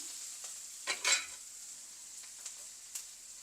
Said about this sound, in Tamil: இதெல்லாம் கொஞ்சம் நல்லா வதங்கட்டும்